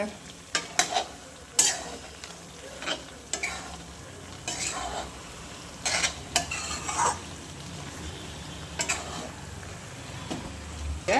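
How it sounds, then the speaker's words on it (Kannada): Chicken gravy stirred in a sizzling pan, with a utensil scraping and clinking against the metal in scattered bursts over a soft constant frying hiss, close up, no talk. "ಈಗ ಚೆನ್ನಾಗಿ ತಿರುಗಿಸ್ಕೊಳ್ಳೋಣ"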